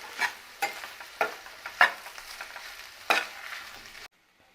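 Masala dosa potato filling stirred and mixed in a sizzling pan, a spoon scraping in about six distinct strokes over a soft, steady sizzle, close and clear, ending abruptly.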